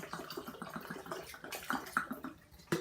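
Water is poured into a sauerkraut salt brine, making a soft, continuous trickle with small splashing pulses, quiet and close, with no talking.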